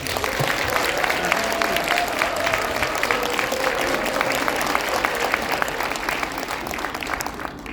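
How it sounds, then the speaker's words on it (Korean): A seminar audience gives a round of applause, steady massed clapping filling the room at moderate volume with a faint tonal hum running underneath. "큰 박수 부탁드리겠습니다"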